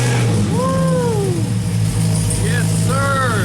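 A 1967 Chevrolet Camaro V8 fires up and runs, a loud steady rumble with rising and falling revs, heard close alongside voices.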